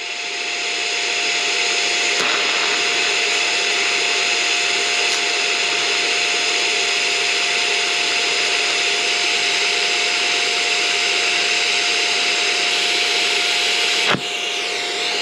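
A Bestarc ARC200 stick and TIG welder holds a steady, loud, continuous TIG arc with a constant hum and hiss for about twelve seconds, then cuts off abruptly near the end, with no talk over it.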